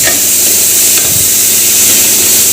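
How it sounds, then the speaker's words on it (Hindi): Onions fry in hot tempering oil with cumin, a loud, dense, continuous sizzle and hiss close up, with a few stirring bumps and no talking. "प्याज ला भून लेवो"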